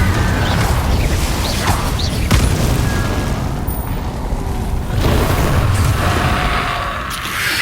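Confringo explosive spell blasts in the video game Hogwarts Legacy: dense, loud rumbling booms and crackling bursts that run continuously and overlap for the whole stretch, with no voices.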